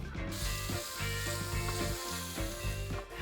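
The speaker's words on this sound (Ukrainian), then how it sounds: "А далі ми з вами будемо смажити цибулю і морквинку." Continuous loud sizzling of onion and carrot frying in a hot pan, with occasional stirring, no voices.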